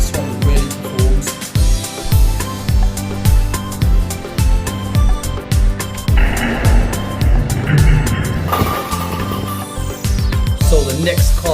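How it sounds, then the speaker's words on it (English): Remote control Range Rover Sport car driving, a continuous whirring electric motor drone with rhythmic wheel and tire noise running throughout, loud and close with no talk. "So the next car for the Skittle challenge is the Range Rover Sport."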